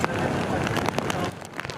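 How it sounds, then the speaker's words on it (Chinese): Heavy typhoon rain on the Hengchun Peninsula in Pingtung during Typhoon Krathon pours as a dense, continuous hiss with gusty surges and scattered sharp drops. "渐渐增强的大雨"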